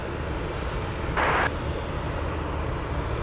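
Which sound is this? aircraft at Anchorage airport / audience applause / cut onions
aircraft at Anchorage airport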